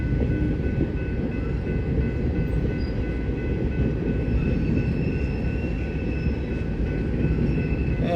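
A BNSF northbound manifest freight train rolls past in Fremont on the Sioux City subdivision, a loud, continuous rumble of railcars with faint clickety-clack and no pauses.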